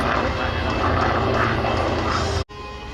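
Vought F4U Corsair warplane flying at EAA AirVenture Oshkosh, a steady, loud piston-engine drone passing overhead that cuts off abruptly near the end, with announcer speech underneath.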